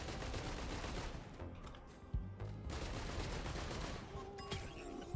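Rapid weapon primary fire in Risk of Rain 2, dense bursts of repeated shots overlapping with game effects, a brief lull near the middle before the volley resumes at full loudness.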